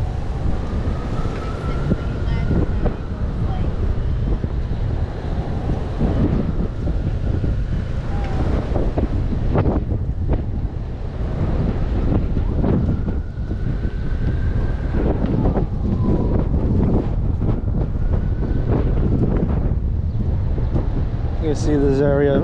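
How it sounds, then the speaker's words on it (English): Strong wind buffets the microphone outdoors at a windy park, producing continuous loud low rumbling and gusty thumps throughout, with faint background voices and occasional other sounds underneath. "Sorry about the wind, it is windy in this area, but it's a nice breeze."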